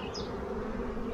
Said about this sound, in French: Les abeilles trouvent de quoi manger, c'est positif.